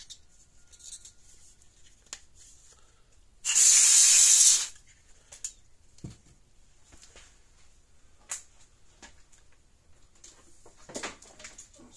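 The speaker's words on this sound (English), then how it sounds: "Let's spray that down real quick." A single sharp burst of aerosol spray on rust on a battery charger hisses for about a second, loud and close, surrounded by faint clicks and quiet handling sounds.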